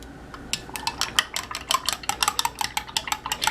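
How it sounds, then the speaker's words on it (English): A spoon clinks quickly and repeatedly against a cup as honey is stirred into a detox drink, with bright rapid taps that speed up through the clip, close and clear with no talk. "Now I'm just going to put a little honey in for taste"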